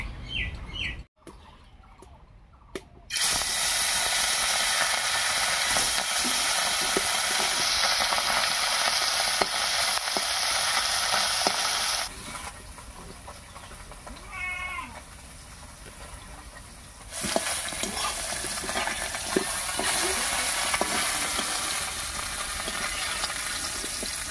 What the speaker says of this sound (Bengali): নদীর এই ছোট মাছ দিয়ে বাটাটা করবো বলে মাছগুলো আজকে একটু ভালো করে ভাজবো।